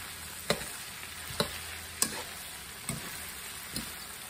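Onions simmer in a little tomato sauce in a pan, a steady close sizzle and bubbling with a soft tick or tap about every second.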